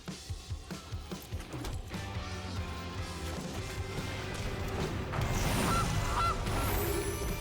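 Goose honk sound effect from the MTG Arena card game, a run of short repeated honks at the start followed by a louder swelling honk and crash-like game effects, with no talk.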